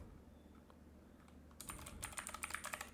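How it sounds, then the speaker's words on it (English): Rapid typing on a computer keyboard while working in Outlook on a PC, quiet at first and then a dense burst of close key clicks through the second half. "I'm typing"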